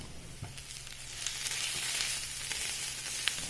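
Chopped onions with garlic-ginger paste sautéing in coconut oil, a steady close sizzle and hiss of frying with a few faint stirring scrapes and no voices.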